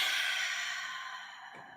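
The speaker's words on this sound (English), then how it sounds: "We're going to take deep breaths." One long, slow exhaled breath fades gradually over a couple of seconds, close and soft, with no talking.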